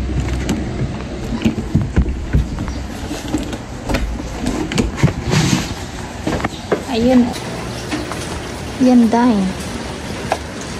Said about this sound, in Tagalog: Umuulan pero mainit ka.